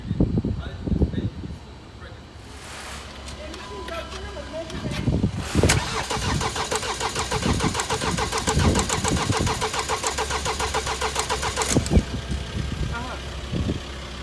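A 2016 Mercedes E-Class with the 654 engine cranks and catches a little after five seconds, then settles into a steady, close idle. People talk before it fires.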